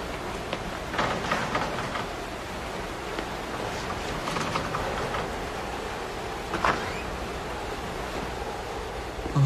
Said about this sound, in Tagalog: lakas talaga ng ulan